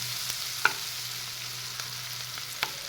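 Onions softening in a pan for brinjal curry, a quiet steady sizzle with a few light scrapes of a stirring spoon.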